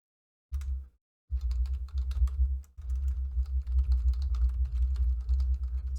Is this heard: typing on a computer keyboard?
yes